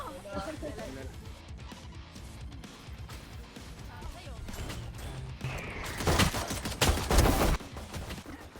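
Gunfire from the agent Cypher in the shooter game Valorant, rapid shots and bursts under excited talk from players, swelling to louder, denser firing near the end.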